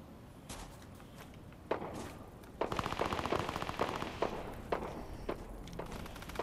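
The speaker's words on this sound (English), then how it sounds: "somebody's shooting over there" Gunfire in the Fortnite video game: rapid bursts of automatic shots, some isolated cracks and a dense rattling stretch, moderately loud, with faint footstep-like thumps between.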